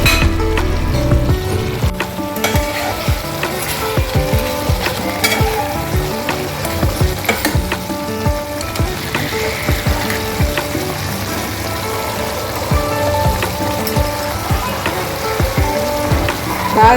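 Chicken fry in a home kitchen pan sizzles steadily and loudly for the whole stretch, with water cooking off, spatula stirring and the odd clink of utensils, and no talk.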